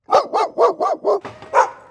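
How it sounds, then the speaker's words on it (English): A reactive pit bull barks sharply six or seven times in quick succession, close and loud, with no one talking. "Every time those dogs barked and Billy's ears went up"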